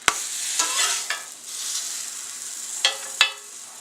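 A pancake sizzling steadily in a hot pan, with a sharp clatter at the start and a few scraping knocks of a spatula as it is flipped, close and fairly quiet.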